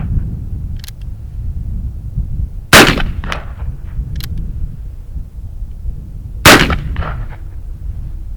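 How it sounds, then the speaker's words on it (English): Two sharp, booming shots ring out from an Uberti 1847 Walker black-powder revolver fired outdoors toward a steel target, spaced several seconds apart with faint echoes trailing each blast. "now I'm going to go ahead and shoot at the steel target out there"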